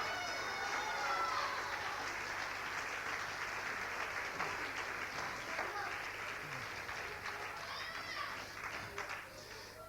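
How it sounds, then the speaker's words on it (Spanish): Church congregation applauding during a Spanish-language sermon, a sustained rush of clapping from a large group with faint shouts and voices mixed in, gradually easing off. "Dale el aplauso a Cristo, que Él se lo merece"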